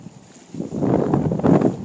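Strong storm wind gusting at 60 miles an hour against a break wall on the Upper Niagara River at Lake Erie, a loud roaring rush with crashing waves building to a louder surge.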